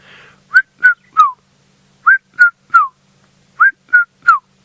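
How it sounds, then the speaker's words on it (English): A red-chested cuckoo calls on safari, giving three clear repeated phrases of three loud descending whistled notes each, evenly spaced, ringing out close against a quiet background. "my favorite one that I love seeing and hearing is the red-chested cuckoo."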